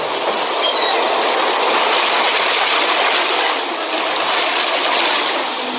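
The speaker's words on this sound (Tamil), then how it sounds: "அந்த சத்தம் கடல் அலையின் சத்தம்." Sea waves give a loud, continuous broadband wash, a close, steady roar of surf with slight swells in intensity and no speech over it.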